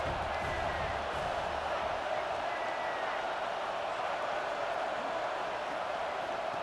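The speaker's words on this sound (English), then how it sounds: "Big third down as the crowd gets behind this defense." A college football stadium crowd at an Alabama versus Florida game roars on a big third down, a broad, steady wash of cheering and noise that stays constant throughout.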